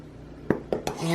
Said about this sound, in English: And we're just going to mix that up.